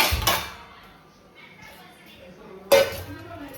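A cooking vessel is picked up with a sharp clink of pots and dishes at the start and another near the end, close by, and a quiet stretch in between.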